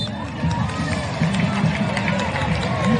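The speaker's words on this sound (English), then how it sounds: "A murmur goes around the crowd for the third time in 2 weeks." Crowd at a women's football final between Salmon Bay and Vermont Green murmuring in the stands, a busy, steady rumble of many voices that swells slightly toward the end, close and fairly loud.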